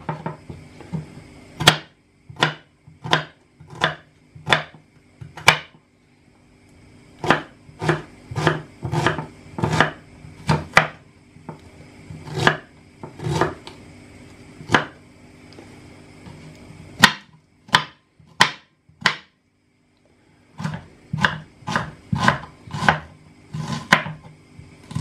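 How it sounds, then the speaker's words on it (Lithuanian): An onion is sliced with a knife on a board in quick rhythmic runs of sharp, close chops, several bursts separated by brief pauses, with no talking. "Spjaustom svogūną."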